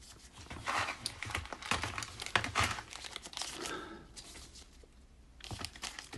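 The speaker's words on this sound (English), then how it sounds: "it does the clicky thing when you turn the button" Turning the crown of a modern smartwatch makes a quiet, close run of small, irregular clicks and ticks, alone.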